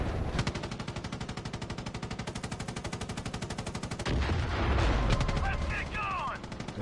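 Mounted guns fire in the video game Far Cry 5: a long, rapid automatic burst of evenly spaced shots for about four seconds, followed by a rumbling blast and scattered noise, with game voices mixed in.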